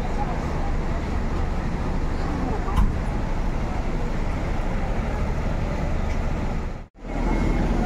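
Hino 280 bus with Morodadi coachwork reversing, a steady low engine rumble with road and yard noise around it, a brief clunk midway and a sudden short drop out near the end.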